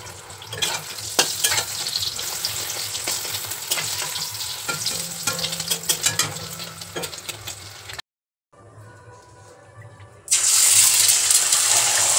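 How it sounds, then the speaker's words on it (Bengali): Eggs frying in a pan with whole garlic cloves, a crackling sizzle with scraping stirs and a few clinks, then a short silence, a muffled stretch, and a sudden loud, steady hiss of frying. "এখন যাব ডিম ভাজতে"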